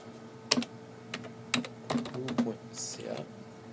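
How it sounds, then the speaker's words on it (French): Someone types on a computer keyboard, close and clear, with a handful of separate key clicks and taps spread irregularly over a few seconds. "Ah, mon clavier fonctionne enfin."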